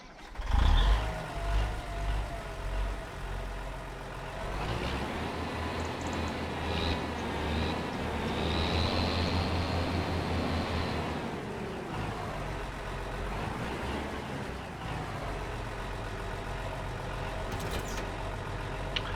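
A large tractor engine in the Farming Simulator 25 video game drones steadily and close, with a loud startup thump and a rising rev in the middle, then settling into a sustained hum without speech.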